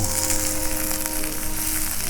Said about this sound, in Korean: 와 지글지글